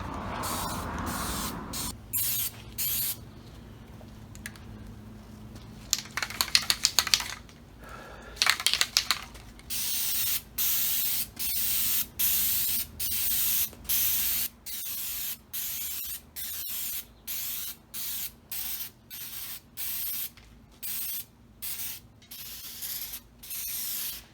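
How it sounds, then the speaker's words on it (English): An old, nearly empty aerosol spray can sputtering in a garage during a Chevy coupe build, with a hissing start followed by many short, evenly repeated bursts of spray and brief gaps, loud and close. "Nothing worse than a intermittent spray."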